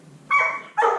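A bird dog barks excitedly twice, two close, loud, bright yelping barks in quick succession with a short gap between them.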